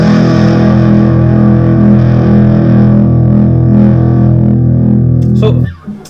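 A sustained, heavily distorted guitar chord through a Mosky Plexi Pro distortion pedal drones loudly with buzzy overtones, then is abruptly muted near the end.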